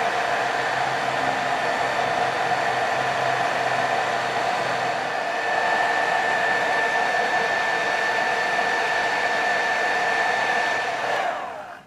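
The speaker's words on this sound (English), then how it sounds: "It's time to dry off with our old friend the hairdryer." A hairdryer blows steadily to dry paste on a diorama building, a loud, even whooshing drone running unbroken for about twelve seconds before switching off at the very end.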